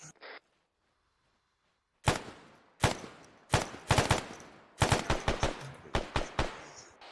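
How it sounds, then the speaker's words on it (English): Automatic gunfire erupts in the ARMA 3 video game, several loud, close bursts of rapid shots separated by short pauses, following a brief quiet stretch at the start. "Someone shooting at me."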